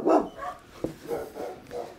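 A dog barks in a few short, close bursts with small whimpering yips between them, during a police arrest.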